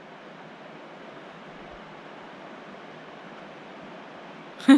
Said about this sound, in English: river actually is flowing